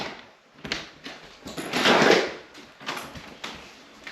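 A door leading out onto a house's porch opens, giving a few soft clunks and a brief sliding or creaking rush near the middle, close by and moderately loud in a quiet room.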